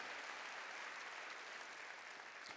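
Church congregation clapping during a Korean Sunday sermon, a faint, distant, even wash of applause that carries on steadily throughout.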